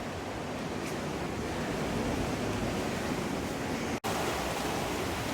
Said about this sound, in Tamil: இந்த கடல் அலை சவுண்டு வந்து அந்த பாறையில் மோதுறது கேட்கவே ரொம்ப திகிலாக இருக்குது